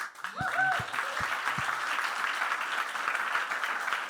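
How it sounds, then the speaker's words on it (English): An audience at a university design pitch day breaks into a big round of applause, a brief voice at the start giving way to steady, sustained clapping throughout. "Really, big round of applause for everybody"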